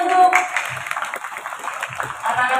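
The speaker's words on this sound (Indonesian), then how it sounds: "Tepuk tangan untuk" Students applaud together at a school orientation opening ceremony at SMAN 6 Kota Bekasi, a steady wash of clapping from a crowd indoors, with some speech mixed in.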